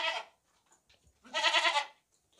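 A goat in heat bleats among other goats, two loud nearby bleats, a short one followed by a longer, strongly wavering cry after a brief pause.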